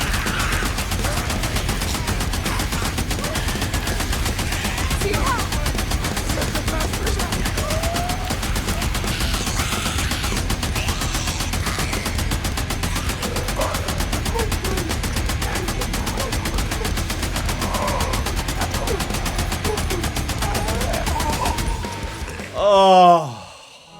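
Sustained, rapid automatic fire from the MG55 machine gun in the video game Days Gone, a loud continuous chugging burst that runs nearly the whole time before cutting off abruptly near the end.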